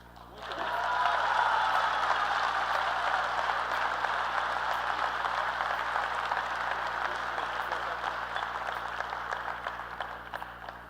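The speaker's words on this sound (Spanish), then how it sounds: "Yo creo que los aplausos lo dicen todo." A large conference audience applauds in a sustained, dense wash of clapping that swells quickly and holds steady for about ten seconds at moderate distance, with no talk over it.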